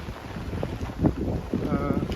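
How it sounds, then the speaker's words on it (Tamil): Steady wind buffets the microphone in a continuous rumbling roar on a rainy day in the street, with faint indistinct sounds under it. "காற்றடிக்குது."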